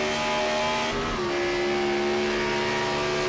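A race car at Watkins Glen braking on the back straight into the bus stop corner, its loud engine note holding steady, then dipping briefly as the revs drop, with no talk over it.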